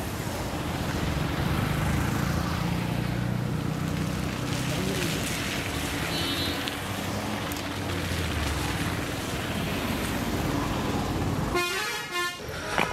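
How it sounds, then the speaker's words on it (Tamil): Heavy traffic on a hill road, with a steady roar of engines and a couple of car horns honking. A short burst of louder horn honking comes near the end, and faint talk sits underneath. "செம்ம டிராஃபிக்கு, ஹெவி டிராஃபிக்கு"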